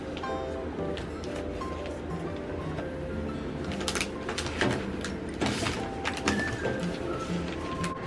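A metal desk drawer slides open with a scraping rumble and a few mechanical clunks and clicks, fairly near, over quiet background music.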